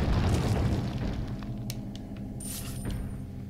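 A bomb explodes in the video game Resident Evil 4, giving a loud boom and rumble that fades over a few seconds, followed by a few faint clicks and a sharp high ring.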